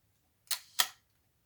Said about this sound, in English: the old shutter on this thing's a little bit stiff